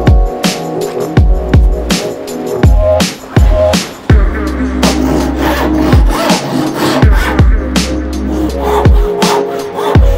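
A hand saw cuts B&Q timber boards to length in steady back-and-forth strokes, with sharp rhythmic rasps repeating close by and no talking.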